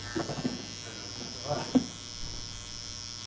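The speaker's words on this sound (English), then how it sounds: "we break it using the trimmer" An electric hair trimmer buzzes faintly in short bursts while breaking a line into a burst fade haircut, a quiet, intermittent hum with a soft voice talking over it.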